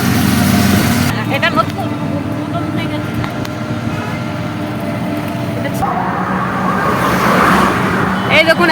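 Road traffic rumbles along a highway, with vehicles passing close by and a constant engine drone and hiss of tyres, while someone speaks briefly over it.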